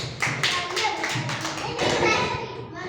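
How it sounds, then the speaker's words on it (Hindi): A burst of quick, uneven clapping from several small hands, close and lively, with children's voices mixed in. "शाबाश, ताली दो उसके लिए।"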